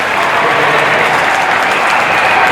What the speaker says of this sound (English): He will get a huge round of applause from